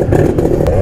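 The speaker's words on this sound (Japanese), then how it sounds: "鍵をオンにしてエンジン始動していきましょう" A fully restored Honda NSR250R motorcycle engine fires up close by, a loud rough rumble with clattering revs over about a second.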